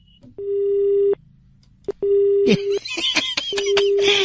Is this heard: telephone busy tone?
yes